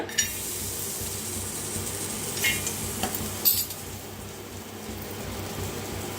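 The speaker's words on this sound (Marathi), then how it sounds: "थोडंसं तेल वतायचं, खोबरं भाजून घेऊया।" Grated coconut roasting in a little oil on a flat griddle pan over a gas flame, giving a steady close sizzle and fry hiss with a few faint stirring scrapes, and no talking.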